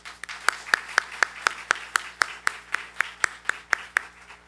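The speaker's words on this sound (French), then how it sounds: "je demande à l'Assemblée d'applaudir chaudement" A church congregation at a Baptist Sunday worship service applauds warmly, with about fifteen sharp, evenly spaced claps at a steady rhythm over a quiet room, fairly close and clear.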